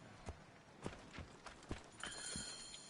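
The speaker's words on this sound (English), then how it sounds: "I have horses for us nearby." Horses clip-clop in Assassin's Creed Origins, a handful of distinct hoof strikes at a walking pace, fairly close, with a faint whinny-like tone near the end.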